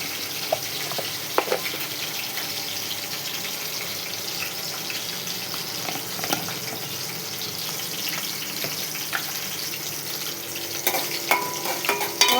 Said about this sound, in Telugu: కొంచెం సిమ్లో పెట్టుకొని వేయించుకోవాలి.